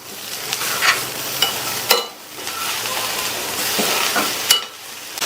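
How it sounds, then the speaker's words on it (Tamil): Ridge gourd being stirred into a coconut mixture in a frying pan, a close sizzle with repeated scraping strokes of a spoon against the pan and a few sharp clinks. "கட் பண்ணி வச்ச பீர்க்கங்காயை சேர்த்துக்கலாம். சேர்த்துட்டு நல்லா மிக்ஸ் பண்ணி விட்டுருங்க."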